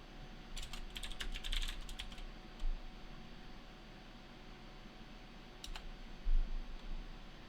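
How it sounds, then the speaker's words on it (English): Quick bursts of keyboard typing by a commentator during an online Melee tournament broadcast, a cluster of rapid key clicks early on and a shorter flurry later, close and moderately loud over a steady background hiss. "I was typing in the other channel."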